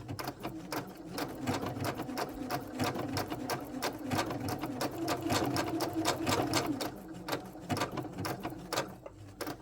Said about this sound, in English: we are going to continue to applique this heart down really quick